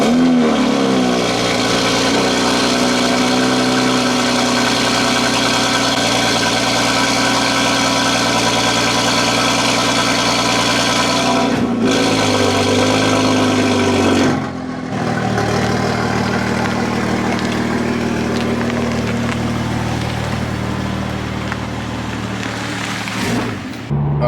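Toyota Supra engine cold-starting and settling into a steady, loud idle with a rich low hum, briefly dipping around the middle before idling on, with no talk over it.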